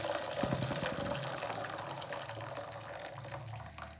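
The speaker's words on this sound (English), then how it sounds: "I'm just gonna add some hot water to this pot." Hot water poured from a container into a pot to improvise a double boiler, a steady close splashing pour that runs continuously for a few seconds with no talking.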